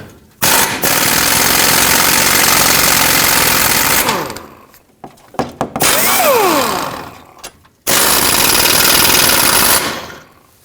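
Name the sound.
removing engine mount nuts with a 14mm socket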